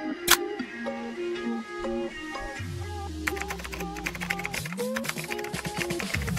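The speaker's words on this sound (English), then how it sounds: "Now I'm going to type in the name of my YouTube channel." Taps on a mobile phone's on-screen keyboard while text is entered, a quick run of light ticks and clicks over faint background music, close and fairly soft.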